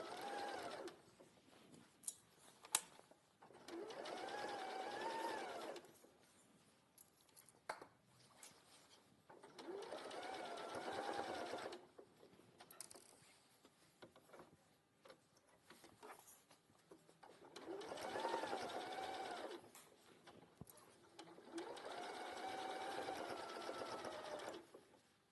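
A sewing machine stitches fabric in several bursts of steady, whirring running separated by short pauses and light handling clicks, fairly close and with no talk over it.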